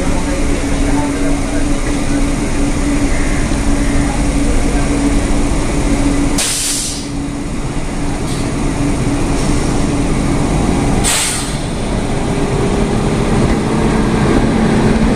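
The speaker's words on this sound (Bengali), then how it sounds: "আমি মেদিনীপুর লোকালে উঠে গেছি" A Medinipur local train running, a loud continuous rumble of wheels and carriage with a steady hum and a couple of brief bursts of rattling noise.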